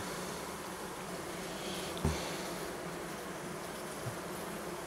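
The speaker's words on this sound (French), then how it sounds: "Donc ça c'est une ruche de Layens, donc une George de Layens, une vraie Layens d'origine." Honeybees hum in a steady, dense drone around an open century-old horizontal Layens beehive, filling the whole stretch continuously, with a couple of faint knocks.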